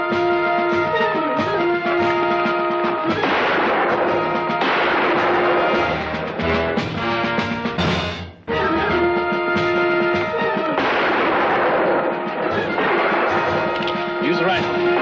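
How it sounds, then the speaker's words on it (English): Repeated rifle gunfire in a western shootout, a rapid series of sharp cracks and echoing reports mixed with dramatic orchestral music, loud throughout, with a brief lull midway before the firing resumes. "Use the rifle."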